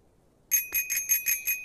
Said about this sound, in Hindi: अरे घंटी, चलो बजाओ इसको